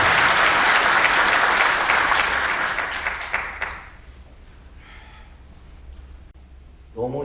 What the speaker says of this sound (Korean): 여러분 힘찬 박수로 환영해 주시면 감사하겠습니다